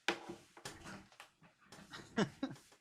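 A pet dog named Teddy pants and whimpers in quick excited bursts at close range, the breathy huffs broken by short high whines as he greets someone who has just come home.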